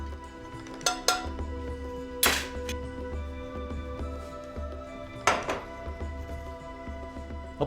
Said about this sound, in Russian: Опускаем лук.